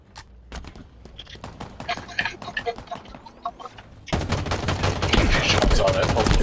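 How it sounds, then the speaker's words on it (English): Rapid gunfire in the Halo Infinite multiplayer game rattles in quick repeated shots, getting louder and denser partway through, with players talking over it. "I'm shooting at the guy chasing you"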